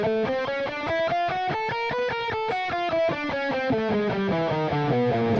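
An electric guitar with a slightly distorted tone plays a three-note-per-string picking exercise, running steady, even streams of picked notes that climb and then descend across the strings, close and clear with no talking.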